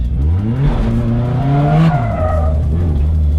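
Car drifting around a big corner during a first-time drift lesson, engine revving and falling with tires squealing and skidding, loud and close.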